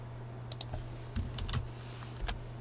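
Computer keyboard keys pressed for a Control-C copy shortcut, a few sharp close clicks scattered over a faint steady hum.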